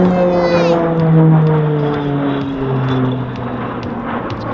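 A RAAF Roulettes PC-9A propeller aircraft flies a display at the Wings Over Illawarra airshow, its engine droning steadily with pitch shifting as it passes, fairly loud outdoors with faint crowd voices.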